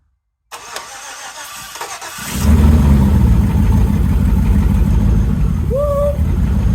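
A Ford van with a swapped-in LS V8 cranks briefly then roars to life and settles into a loud, steady idle, with a short high squeal near the end.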